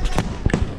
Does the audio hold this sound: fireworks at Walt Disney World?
yes